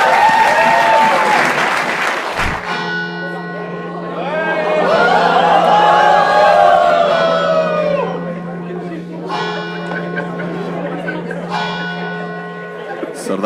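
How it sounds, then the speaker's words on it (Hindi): A studio audience at a comedy escape-room show breaks into loud, sustained applause, layered with ringing bell-like chimes and steady musical tones that swell in the middle and carry on to the end. "ताली बजाएं एक बार, round of applause for self."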